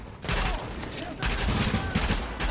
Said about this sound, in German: Immer auf die Kanister ballern.